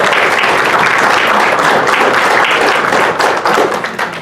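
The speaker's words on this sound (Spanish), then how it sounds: "Recibamos con un fuerte aplauso al doctor." Audience at a panel on AI in education gives a welcoming round of applause for a doctor, dense continuous clapping from a large crowd, loud and steady throughout.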